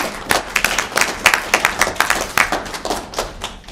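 An audience at a book talk claps steadily, a fairly close, dense patter of many hands with distinct sharp claps throughout and no talking.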